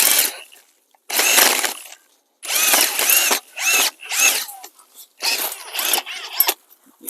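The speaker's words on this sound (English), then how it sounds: "I'm going to use an auger attachment to a power drill. So this will help me dig my holes" A power drill with an auger attachment bores planting holes in garden soil for tulip and daffodil bulbs, whirring in about six loud, close bursts of one to two seconds with short silent pauses between.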